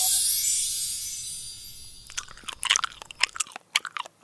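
Someone bites into a Jollibee burger and chews it up close, first a soft rustle and then a run of wet, crunchy mouth sounds in short uneven bursts.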